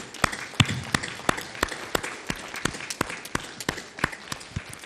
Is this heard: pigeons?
no